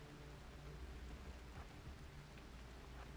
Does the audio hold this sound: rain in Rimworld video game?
yes